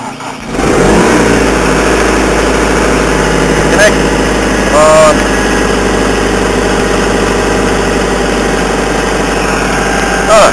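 Vermeer SC60 TX stump grinder engine idling, a loud, steady low rumble with constant vibration close by, running evenly throughout after a brief start, with a few faint higher squeaks.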